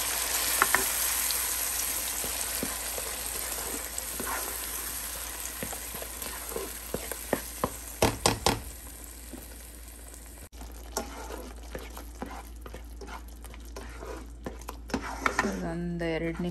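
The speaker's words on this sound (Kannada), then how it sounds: "ಒಂದು 2 ನಿಮಿಷ ಇದು ಹಸಿ ವಾಸನೆ ಹೋಗೋ ತನಕ ಸ್ವಲ್ಪ ಫ್ರೈ ಮಾಡ್ಕೊಳ್ಳೋಣ" Tomato paste frying in a pan, a soft continuous sizzle under scattered scraping and clinking of a spoon against metal, with a burst of louder knocks midway and more stirring taps toward the end.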